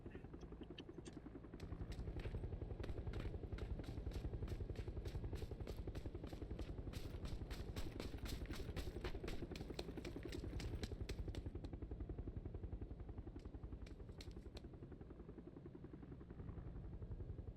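Helicopter in the battle royale game PUBG, a steady rapid rotor chop that stays constant and moderately loud throughout, with no talk over it.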